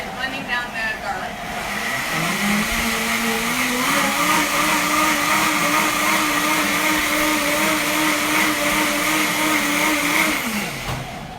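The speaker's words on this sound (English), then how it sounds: "We're gonna blend this up on the high-powered blender here." A high-powered blender blending garlic for plant-based pulled pork: a loud, close motor whir that climbs in pitch as it spins up, holds a steady high whine for several seconds, then winds down abruptly.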